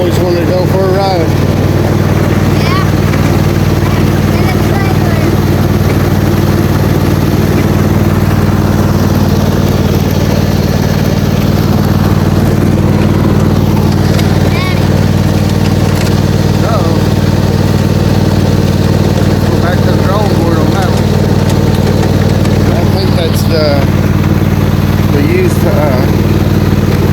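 A Husqvarna riding lawn mower runs steadily with a loud, constant engine drone, heard up close while someone talks over it.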